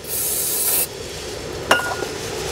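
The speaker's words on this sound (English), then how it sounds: "Now we got to go ahead and spray it and clean it off right here with the metal brush" Cleaner sprayed onto a Mazda 6 wheel hub mating surface in a steady hissing burst, then stops, followed by a short metallic scrape from a wire brush scrubbing the metal, close and fairly loud.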